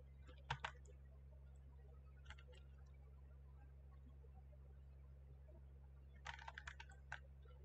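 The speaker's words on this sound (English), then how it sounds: "Make sure you can hear the keyboards." A computer keyboard is typed on in short, faint bursts of clicky keystrokes, a quick cluster near the start, a few isolated taps mid-way and another rapid flurry near the end, over a steady low electrical hum.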